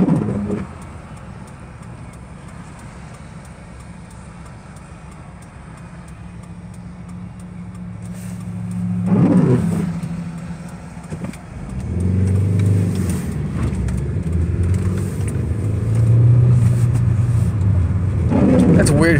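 Hyundai Elantra GT engine in a car interior, steady low drone that rises into revving bursts midway and again near the end, with the revs hanging high with the clutch in; people talk over it.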